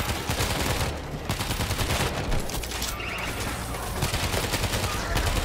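Sustained, loud gunfire in World War Z as players shoot the Screamer zombie, dense rapid bursts of shots filling the whole stretch with little pause and no talk over it.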